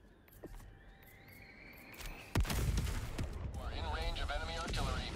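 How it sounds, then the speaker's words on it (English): Mortar fire in Helldivers 2 on a battlefield: a sudden heavy boom lands mid-clip and gives way to sustained rumbling and crackling combat noise, with high tones and background game effects around it. "God, that mortar's annoying."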